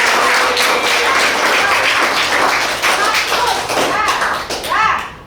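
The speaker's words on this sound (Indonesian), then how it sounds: "Woi Narendra, kasih tepuk tangan untuk Narendra." Classroom clapping as students applaud a classmate, a dense continuous patter of many hands filling the room, with children's voices mixed in and the clapping thinning out toward the end.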